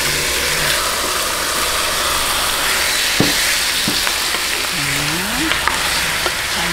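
Chicken sautés in a pan for Ilonggo chicken binakol, a loud continuous sizzle with occasional utensil knocks and stirring sounds, no voices.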